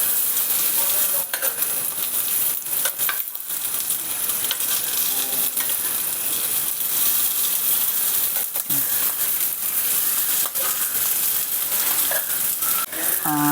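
Thalassery-style mussels fry in coconut oil in a pan, giving a loud, continuous close-up sizzle broken by occasional clinks and scrapes as pieces are turned.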